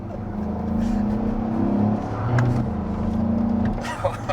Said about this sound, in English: grunt of the big V8